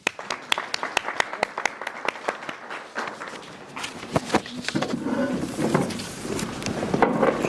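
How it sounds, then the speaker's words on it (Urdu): Sustained applause with dense clapping that builds in the second half, joined by crowd noise in a large room at a book launch ceremony in Ilford, London, welcoming the guest of honour. "مہمان اعزازی کے لیے زوردار تالیاں۔"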